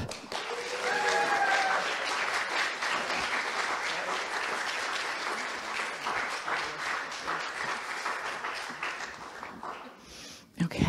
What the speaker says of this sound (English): give everybody on the stage another big round of applause